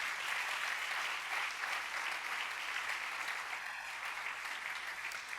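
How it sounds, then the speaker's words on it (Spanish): Church congregation clapping during a sermon, a sustained, even wash of applause from a large crowd at moderate loudness, with no speech over it. "Dale un buen aplauso a mi Jesús."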